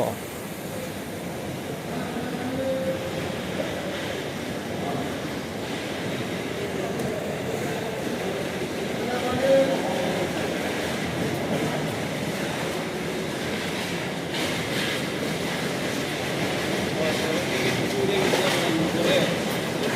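A passenger train running from Dhaka to Mymensingh fills the clip with a steady, dense rumble and rattle of the carriage, continuous and fairly loud throughout, with faint voices mixed in.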